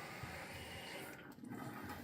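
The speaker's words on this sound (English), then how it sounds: "Turn the water on." Water running steadily into a toilet tank during a slow refill after the supply is turned on, a continuous broadband hiss and rush heard close up with no speech.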